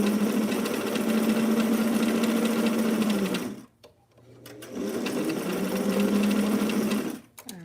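A sewing machine runs close by in two long, fast bursts, stitching the shoulder seams of a delicate vintage sweetheart blouse, with a short stop and a few clicks in the gap between runs.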